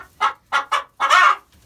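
A hen clucks loudly and agitatedly up close: three short squawks followed by a longer, drawn-out cackle, with brief pauses between calls.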